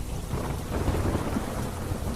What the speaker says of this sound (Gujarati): મોડી રાત્રિના ગાજવીજ અને પવન સાથે વરસાદ શરૂ થતા